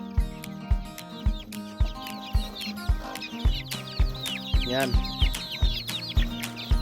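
Several chickens cluck close by with steady repeated clucks and a few higher squawks, while a person briefly speaks.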